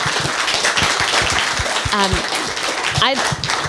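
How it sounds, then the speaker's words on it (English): An audience claps for the speakers at the end of an art-history talk, a loud, close burst of many hands that goes on evenly, with a few voices and brief sounds rising over the clapping. "give them a big round of applause"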